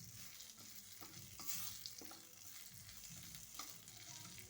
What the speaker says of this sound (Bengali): এবার কালো জিরেটা ভাজা ভাজা করে নেব।